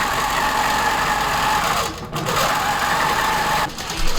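King Quilter II Elite longarm quilting machine stitching an edge-to-edge design, a steady loud mechanical whir and rapid needle chatter running almost continuously with brief dips in speed.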